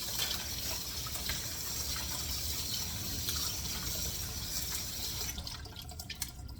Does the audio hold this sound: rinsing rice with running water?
yes